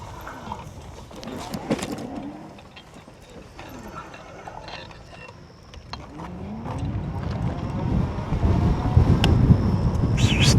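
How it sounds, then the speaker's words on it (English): Strong night wind buffets the microphone on a road in Georgetown, a low roaring rush that swells and grows louder toward the end, with faint clatter and mechanical noise mixed in. "this wind's bad"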